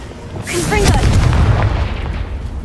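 The Confringo fire spell bursts in Hogwarts Legacy: a loud, deep boom with a crackling whoosh swells up and rumbles on for a couple of seconds.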